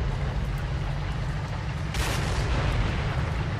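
Explosion in the World War II shooter Heroes and Generals, a broad burst rising out of a steady low rumble of battle noise, then sustained roar with no talk.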